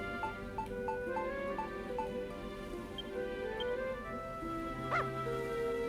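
A dog barks and whimpers in the Dragon Quest Builders 2 video game, a string of short evenly spaced yips over steady game music, with a higher yelp near the end.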